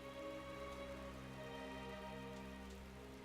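Steady rain falling in the Final Fantasy XII game, an even hiss of drops on surfaces with a low tonal hum of game music beneath, constant and moderately quiet.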